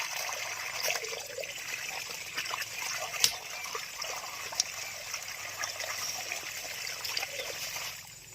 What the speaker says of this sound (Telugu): ఈ పైప్ నీరుతో మనం ఒకసారి కడిగేసి తిని చూపిస్తాను మీకైతే.